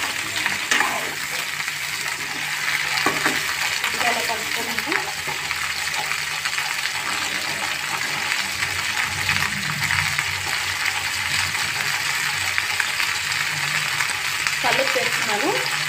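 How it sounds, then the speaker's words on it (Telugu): A spoon stirs cauliflower gravy in a pan over a steady sizzling fry, with scraping movements now and then, and someone talks over the cooking. "కలుపు చేస్తున్నాను, స్పూన్ కలుపు."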